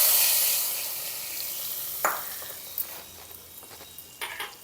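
Hot garlic and curry leaf tempering poured into dal gives a soft sizzle that fades, followed by a few faint stirring clinks. The sound is close and quiet.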